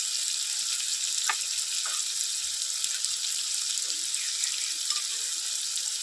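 Garlic paste, ginger paste and chopped green chilli go into a hot frying pan for a prawn bhuna. They give a steady, moderately loud sizzle and hiss with a few soft clinks, and nobody speaks.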